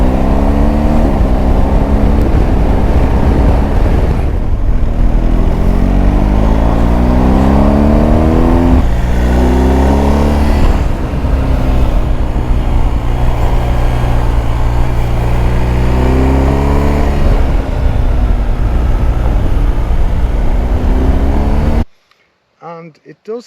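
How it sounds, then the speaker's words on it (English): BMW R1250GS Adventure motorcycle engine running loud and close, rising and falling through repeated revving sweeps with wind noise, cutting off abruptly near the end. "I'm still not gone on the sound of it,"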